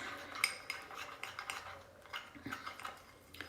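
A utensil stirs and scrapes through a thick paste of cocoa powder and honey in a bowl, giving steady soft clinks and scraping strokes at close range, with no talking.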